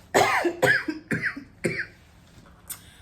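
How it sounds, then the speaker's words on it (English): A run of four harsh coughs in quick succession, close and loud, followed by a quieter throat sound after a pause. "Now I'm starting to cough."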